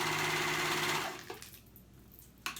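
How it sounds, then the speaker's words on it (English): A sewing machine runs steadily for about a second as it stitches the raw edges of a dress together, then stops, followed by a few soft clicks and handling noises. "we're gonna sew them together."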